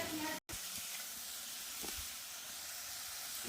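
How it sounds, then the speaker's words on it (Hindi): Masala spice paste roasting in a pan, a steady faint sizzle and hiss throughout, briefly interrupted near the start, with a few soft stirring scrapes. "तो चलिए इसको फटाफट भून लेते हैं।"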